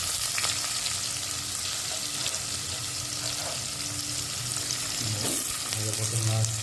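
Onions frying in hot oil with urad dal and cumin, a steady close sizzle with occasional stirring scrapes in the pan, no talk.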